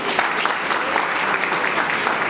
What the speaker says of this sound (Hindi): तो आप सबके लिए भी जोरदार तालियां एक बार